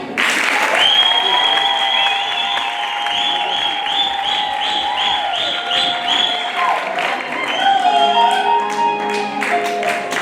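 Church congregation at a wedding gives a loud, sustained round of applause, continuous clapping blended with singing or musical tones that carry over the top.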